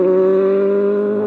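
A Kawasaki ZX-10 sport motorcycle engine holds a loud, steady high-rpm drone nearby, its pitch barely shifting, with no voices over it.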